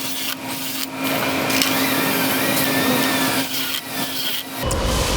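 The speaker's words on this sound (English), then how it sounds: "Then go ahead and tighten all these bolts down." Bolts tightened on a Scag Turf Tiger zero-turn mower during a grass deflector install, likely with a power tool: a continuous loud whirring and buzzing with brief dips and a steady hum.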